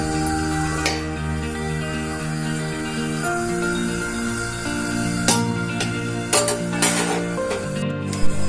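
Sooji laddus frying in a pan as they are stirred, a constant low sizzle broken by scattered scraping and metallic clinks of a spoon against the pan toward the end.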